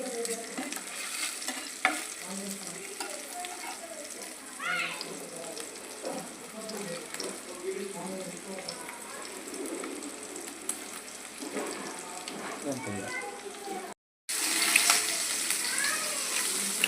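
Chicken leg pieces fry over a low flame, a quiet continuous sizzle with occasional stirring and turning clinks, close by, before a brief dropout and a louder final burst.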